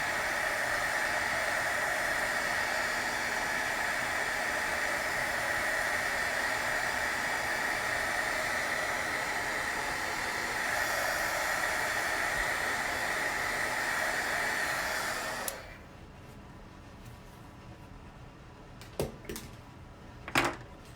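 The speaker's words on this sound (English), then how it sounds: "Use my heat gun to dry the alcohol." A heat gun dries alcohol ink on vellum with a loud, steady blowing roar for about fifteen seconds. It then cuts off, leaving a quiet room with a few faint clicks.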